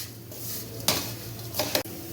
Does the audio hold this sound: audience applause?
no